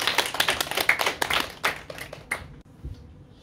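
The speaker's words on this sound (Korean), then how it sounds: "우리 박수로 맞이하도록 하겠습니다" A church congregation claps to welcome the preacher at a Sunday morning service, a dense spread of hand claps that thins out and fades to a few last scattered claps.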